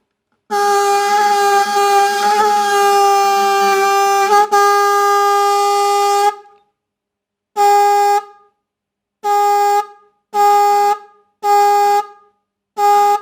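A repaired car or motorcycle horn, powered from a battery or adapter and brought back to life by adjusting its screw, blares loudly in one long six-second honk, then gives five short, evenly spaced toots alone.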